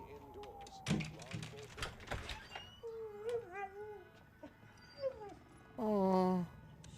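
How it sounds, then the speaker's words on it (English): Dog whimpering in a tense scene from The Last of Us Episode 1, with high whining cries and yelps rising and falling over several seconds, mixed with speech and background sound. "The dog!"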